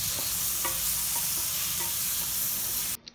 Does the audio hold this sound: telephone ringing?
no